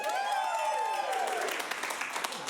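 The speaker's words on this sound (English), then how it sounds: "clap the loudest for the two films you want to see go on the next act" An improv comedy audience claps and cheers to vote for a film, a loud burst of applause mixed with whoops that fades out over a couple of seconds.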